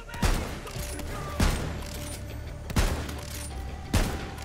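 Gunfire in Borderlands 3: four heavy shots land at roughly even intervals over a constant loud background rumble, each a sharp booming hit, with no voices.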